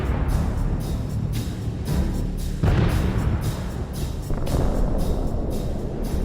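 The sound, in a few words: explosions in a war zone, Chasiv Yar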